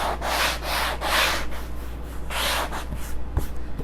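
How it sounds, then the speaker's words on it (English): Rhythmic sanding strokes rasp back and forth across painted upholstery, several passes close up, followed by a few light taps. "Get that all sanded, get our edges sanded."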